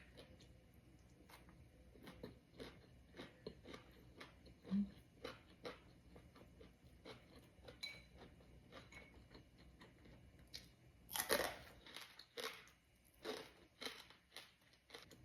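Crunchy string bean adobo cooked with bacon being chewed close up, a quiet run of irregular crisp bites and crunches spread through the whole stretch, with one louder burst of crunching partway in.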